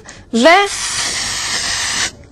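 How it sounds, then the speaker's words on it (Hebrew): A can of cooking oil spray gives one long, steady hiss as it coats a silicone baking mold. It starts with a brief voiced sound and then cuts off cleanly after about two seconds. "ותבנית הסיליקון פשוט צריכה שימון קל של ספרי שמן"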